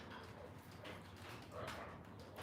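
Dogs bark faintly in a home kitchen, their short yelps coming in scattered bursts against a soft background hum.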